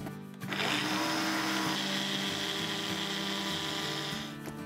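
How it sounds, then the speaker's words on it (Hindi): An electric blender whirs loudly and steadily through a yogurt mixture, starting after a brief moment and running as a continuous motor drone with a high grinding edge before stopping near the end. "अपना लिड लगाया चले जी हम इसे ब्लेंड कर देते हैं"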